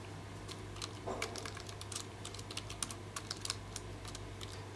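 Typing on a computer keyboard while a full name is entered into a YouTube channel appeal form, a steady run of close, quick key clicks over a low constant hum.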